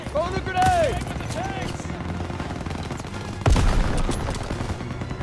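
Rapid machine-gun bursts and scattered rifle shots fill a World War II battle in Call of Duty WW2, with a heavy MG-42 nest firing, plus a louder close burst midway, all beneath shouted voice commands.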